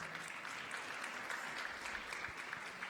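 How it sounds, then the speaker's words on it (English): A concert audience at a café event in Kigali applauds a performer with steady, dense clapping throughout, fairly faint and distant. "Let's give her another round of applause"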